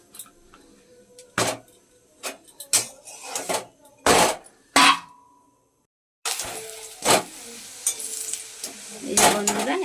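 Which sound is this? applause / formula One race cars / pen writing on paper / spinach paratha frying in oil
spinach paratha frying in oil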